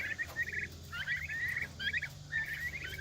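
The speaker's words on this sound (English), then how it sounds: "As you can see, my turkeys, I've had them in here too long." Turkeys gobble inside their pen, several fast rattling gobble bursts in quick succession at moderate volume over a low steady background hum.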